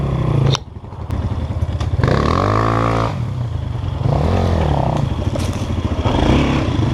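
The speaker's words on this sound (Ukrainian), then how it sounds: "Прикольний мопед." A small moped engine revs hard in several rising and falling bursts, buzzing and whining up close, with some clattering and scraping.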